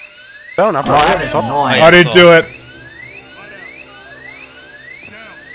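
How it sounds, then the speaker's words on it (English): A drill whines in the heist video game Payday 2, its repeating rising electronic chirps cycling steadily under a shout from a player, then carrying on alone with a constant high mechanical tone. "I'll get the drill."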